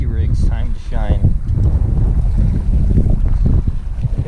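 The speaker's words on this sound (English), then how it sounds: "If it'll put up with the miserable wind." Strong wind blows across open water by a boat, a loud steady rush of buffeting wind noise hitting the microphone throughout, with a voice talking briefly at the start.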